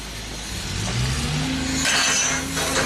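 A Genie lift with a Perkins diesel engine moves on a drive test, the engine droning loud and close and rising in pitch as it works harder, with rattly mechanical noise over the top.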